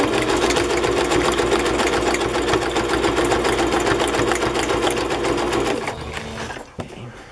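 A sewing machine stitches a craft journal page with a fast, loud, steady mechanical whir and rattle up close, then slows and stops near the end.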